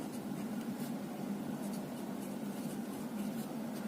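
A pen writes numbers on paper with a steady, continuous scratching close by and no pauses, over a faint background hum.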